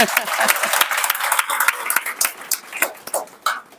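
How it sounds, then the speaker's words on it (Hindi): A room of college students claps loudly for a teacher at a Bhagavad Gita session, a dense burst of hand claps that gradually thins into scattered individual claps. "मैम के लिए एक जोरदार ताली होनी चाहिए"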